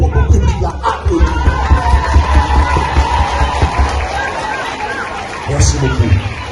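A public audience at an event applauds and cheers in a dense, continuous wash of clapping and crowd noise, with voices and shouts mixed through it.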